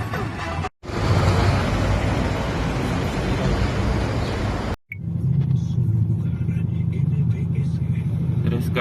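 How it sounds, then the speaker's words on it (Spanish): Cars and a truck passing on a road in Guanajuato, Mexico, a loud, steady engine rumble and tyre roar that cuts out briefly twice, then continues with a deeper, steady drone. "Tres carros, uno de Sabritas y otros dos adelante."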